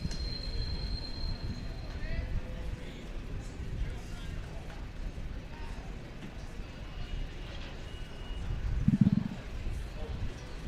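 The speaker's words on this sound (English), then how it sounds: "Another train coming by" A train rolls past near a high school baseball field in Clinton, Iowa, a low steady rumble of wheels and cars with a faint squeal, heard under a play-by-play announcer's talk.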